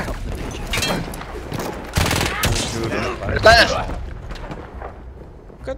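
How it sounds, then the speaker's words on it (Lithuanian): Gunfire comes from a fort in the Battlefield video game: bursts of rapid shots and booming impacts under steady player talk over voice chat. "nuo forto mane šaudo"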